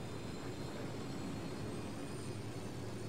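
Airplanes flying overhead in a Ghost Recon game, heard as a steady broadband engine roar that holds at a constant level throughout, with no talk over it.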